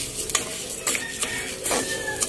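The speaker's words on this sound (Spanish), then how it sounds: "aquí yo ya estoy friendo mi sopa de arroz" Mexican rice for sopa de arroz fries in a pan, a steady sizzle broken by several sharp scrapes and clinks of a utensil stirring against the pan, close and fairly loud.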